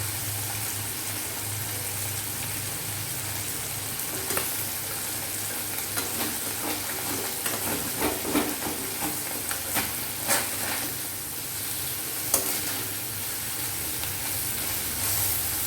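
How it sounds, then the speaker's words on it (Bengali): Small freshwater mourala fish fry in a pan, giving a steady loud sizzle broken by occasional scrapes and stirring clinks, close and continuous with no voices. "এরপর আমি ভেজে নিচ্ছি মৌরলা মাছ"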